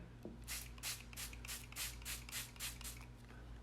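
About ten quick, soft spritzes of distilled water from a spray bottle onto a Silver Age comic book, in a steady rhythm, close and quiet, after a faint tap at the start.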